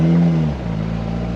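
A Jeep TJ engine running as the project Jeep sets off around the neighborhood, with spilled oil burning off the exhaust; a steady, close engine drone with a strong low hum that shifts pitch slightly partway through.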